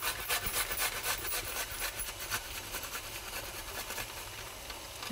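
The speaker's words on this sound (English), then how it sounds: "I'm going to grate some root ginger" Root ginger being grated by hand in a home kitchen while cooking a curry, a steady raspy rubbing with quick repeated strokes, close and fairly loud, with no talking.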